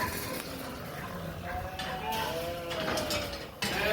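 Replacement ewe lambs in a barn pen at night bleat repeatedly, several overlapping wavering calls close by over a constant shuffling background din.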